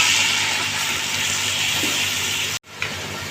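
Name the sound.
garlic ginger paste frying with chicken in pan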